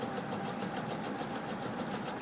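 Sewing machine running steadily while stitching quilt binding with a quarter-inch presser foot, a continuous fast, even whir at moderate volume with no talk.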